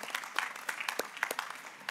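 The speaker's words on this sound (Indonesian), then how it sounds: "kita beri tepuk tangan." Applause from a congregation at a large anniversary Mass held by a Jesuit high school. Fairly faint, uneven clapping comes in scattered bursts and sharp individual claps.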